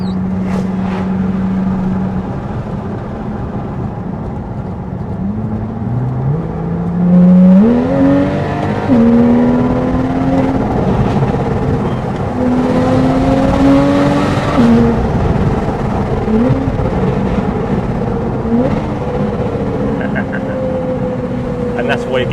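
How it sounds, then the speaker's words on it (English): A Porsche GTS with its sports exhaust switched on revs and pulls hard, the engine note rising and falling in repeated sweeps over a steady cabin drone, with people talking over it throughout. "let's switch on the sports exhaust."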